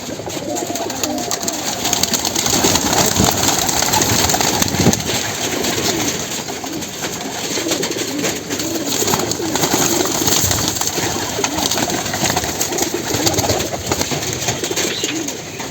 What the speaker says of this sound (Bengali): তো চলেন আমি আপনাদেরকে কিছু কবুতর ধরে ধরে দেখাই